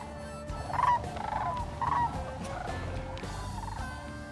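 Sandhill cranes call as they fly in over trees, their rolling, bugling cries rising in a few loud bursts over a low background rumble, fairly close and with no talking.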